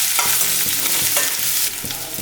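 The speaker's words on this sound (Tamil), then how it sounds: "அடுத்த மீடியம் ஃப்ளேம்லேயே வச்சு 2 நிமிஷம் வதக்குங்க." Green chillies and curry leaves sauté over a medium flame in a pan for tomato rice, giving a steady, close sizzle with a spoon scraping and stirring in a few regular strokes.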